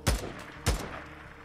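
Two sharp, loud gunshots about half a second apart in Days Gone, each ending in a short booming tail, with no talk.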